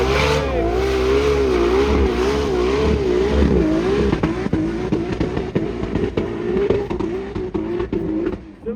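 A car engine revs hard and loud at a stunt show at the Liwa International Festival, first as a sustained wavering roar, then as uneven bursts and rasps against the crowd's noise.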